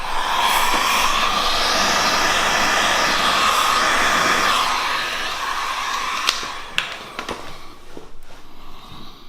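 A heat gun blows steadily and loudly close by while vinyl wrap is heated on a car hood or roof, its airy roar holding for about six seconds before fading, followed by a few sharp handling clicks.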